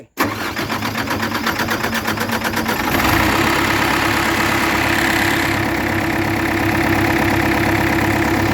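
A car engine freshly rebuilt with a new piston and rings cranks and catches, chugging roughly, then is revved to a loud, sustained higher pitch and held there close by.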